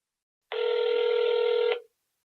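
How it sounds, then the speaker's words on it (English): A single electronic telephone ring tone for an outgoing call sounds loud and clear, one steady buzzing burst of about a second and a half set against silence. "It's ringing."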